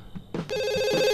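A telephone rings in The Sims 2 with a bright, sustained electronic trill at close range and moderate loudness. It starts after a brief clunk over a soft, pulsing game background.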